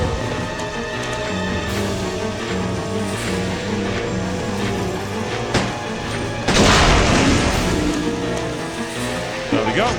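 An in-game canister blows up in Resident Evil Code Veronica, a loud burst of noise at about six and a half seconds that stands out from a steady bed of game sound, with a fainter thump near the end.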